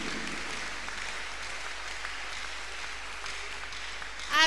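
Congregation clapping at a Tuesday miracle service, a continuous moderate wash of hand claps that holds steady and swells briefly at the very end.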